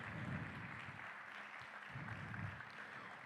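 A church congregation applauds, a soft, diffuse wash of many hands clapping steadily at a distance with no voices over it.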